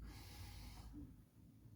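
A yoga purifying breath pushed out through the mouth, like blowing through a straw, sounds as a soft, close, breathy rush that fades after about a second.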